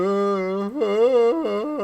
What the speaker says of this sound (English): Somebody's very upset. Do you hear them moaning in the background?